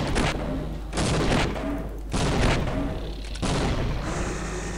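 In Half-Life: Opposing Force, a boss fires on the player in heavy, booming bursts. Four loud volleys of gunfire are separated by brief lulls over a constant low rumble.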